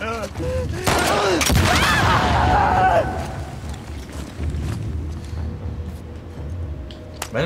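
Gunfire and explosions from the video game The Last of Us Part II: a loud, dense burst of shots and blasts in the first three seconds, then continuing rumbling fire and scattered reports at a lower level.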